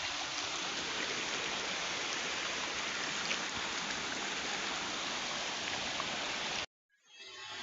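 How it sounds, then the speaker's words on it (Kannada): Steady, loud rushing of the flooded Aghanashini river in heavy Malnad rain fills the scene without pause, then cuts off abruptly near the end. "ಅಘನಾಶಿನಿ ನದಿಯಲ್ಲಿ ನೀರಿನ ಹರಿವು ಹೆಚ್ಚಳ ಆಗಿದೆ"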